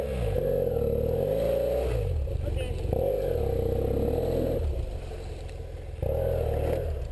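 A heavy BMW adventure motorcycle stuck in mud on an off-road trail, its engine revving loudly in repeated surges with short dips between them, close by, with voices mixed in.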